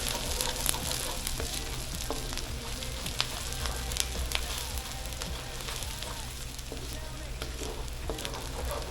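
Pimento with ginger sizzles steadily in a hot pan during a fried rice and chowmein cook, a continuous close frying hiss with occasional stirring clicks and no voices.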